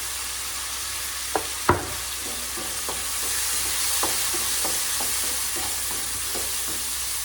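Potatoes frying in a pan with salt and turmeric: a steady, close sizzle with a couple of sharp utensil knocks early on and lighter irregular stirring scrapes after, no talk.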